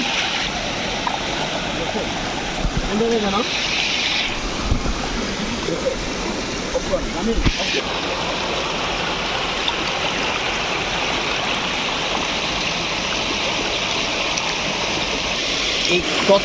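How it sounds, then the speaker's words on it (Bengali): A strong natural stream beside the new Arts Building at Chittagong University rushes steadily throughout, with a broad continuous roar of flowing water and a voice speaking briefly over it. "এখানে স্রোতটা একটু কম হলেও ওই জায়গায় যে আছে ওই জায়গার স্রোতটা অনেক বেশি"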